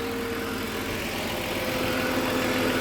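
The six-cylinder engine of a restored BMW E38 7 Series idles steadily and smoothly, a low even hum with faint mechanical whir, close by and unbroken for the whole stretch.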